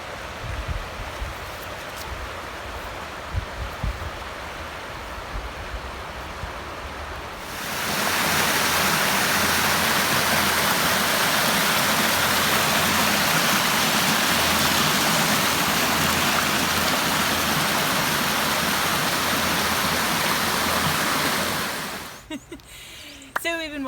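River Clyde flowing beside a forest path in autumn, Scotland: a soft, quieter stretch, then a sudden steady loud rush of water for about fifteen seconds before it cuts off, with brief handling noise at the end.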